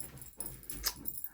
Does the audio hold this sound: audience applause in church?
no